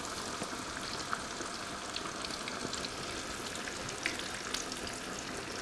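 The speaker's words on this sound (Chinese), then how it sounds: "炸鱼的时候在一开始下锅不要翻面哦" A whole fish, its tail threaded through the split flesh, deep-fries in hot oil, giving a steady close crackling sizzle with small pops throughout and no talk.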